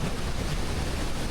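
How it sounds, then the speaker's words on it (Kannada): Steady, dense rushing water fills the whole moment, a constant roar of a waterfall close by in a gorge in Tyrol, Austria, with no voices. "ಓ ಇನ್ನೊಂದು ವಾಟರ್ ಫಾಲ್"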